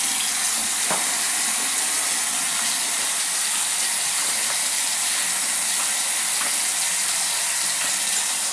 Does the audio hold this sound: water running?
yes